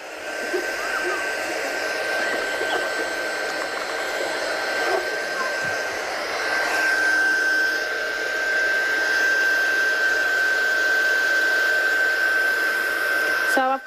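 A handheld heat dryer blowing across the back of a watercolour painting, a steady loud whirring hiss with a constant high whine, running close and unbroken throughout.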